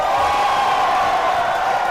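A large audience at a live giveaway event on stage cheers and shouts in a steady, loud, continuous roar that fills the whole moment.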